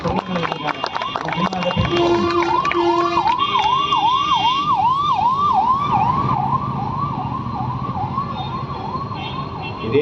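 An ambulance siren wails in a rapid, rising-and-falling cycle, loud and steady for several seconds, with traffic noise and other tones around it.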